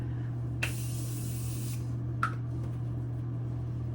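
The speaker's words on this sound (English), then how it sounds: "now I'm setting all of my powders with the Morphe Continuous Setting Mist" Two short hissing bursts of Morphe Continuous Setting Mist, the first longer, the second brief, over a steady low hum.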